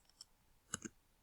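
A few sharp keyboard clicks as numbers are typed into a computer table, two or three quick taps close together, quiet and isolated with no voices.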